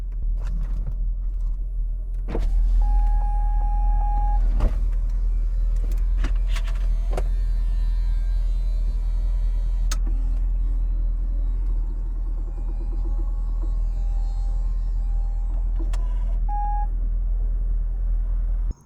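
A steady electric motor hums under a low rumble, with a few short beeps and clicks as a C6 Corvette convertible roof lowers continuously for a long stretch.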